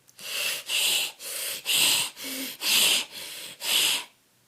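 A person imitates a monster's heavy panting with eight loud, breathy huffs in a steady rhythm, close to the microphone, then falls silent.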